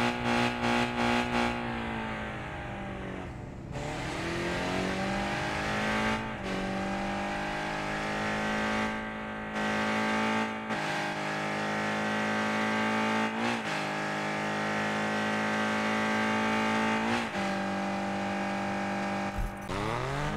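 Toyota Trueno AE86 engine in the Car Parking Multiplayer video game, revving steadily and loudly at close range, the pitch climbing and dropping through several rev sweeps with short breaks between.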